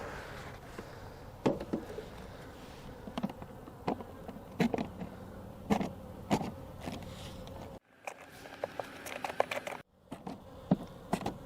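Honey bees from a tiny swarm being combined into a hive through newspaper give off a steady insect hum, with frequent sharper buzzes as single bees fly close past, and two short quiet gaps.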